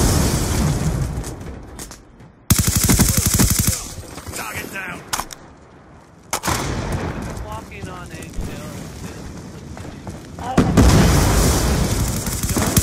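Loud video-game firefight with a grenade blast and bursts of rapid gunfire, dense and continuous with a sharp loud onset mid-way and another surge near the end, radio-style voices calling out over the battle.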